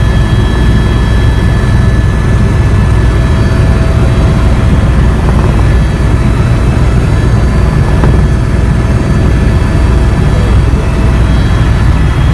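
Helicopter flying over the Grand Canyon, filmed from the aircraft in 2015, with a loud, steady roar of engine and rotor noise that runs unbroken the whole time and has no talking over it.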